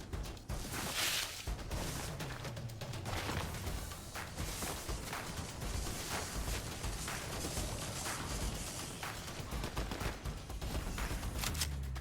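Dense, continuous game gunfire in a shotgun-only match fills the stretch, with repeated loud blasts and clatter sustained throughout and no pauses.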